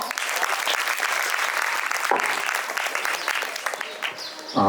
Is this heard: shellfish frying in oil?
no